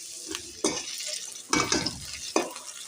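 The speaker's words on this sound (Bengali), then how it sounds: "এই গাজরটা হালকা ভাজা হয়ে গেলে নামিয়ে তারপরে বিরিয়ানির বাকি পদ্ধতি স্টার্ট করব" Cut carrots fry in hot oil as a biryani garnish, a soft steady sizzle broken by a few louder stirring and scraping clatters in the pan, close up, with no talking.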